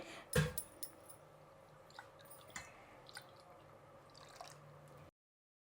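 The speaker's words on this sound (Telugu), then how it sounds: "గ్లాసులో కొద్దిగా నీళ్ళు వేస్తున్నాను, ఎక్కువ వేయొద్దండి." Water poured from a glass trickles and drips softly into soaked poha, a wet, squishy mass, with a brief louder splash near the start; quiet and close, no voices.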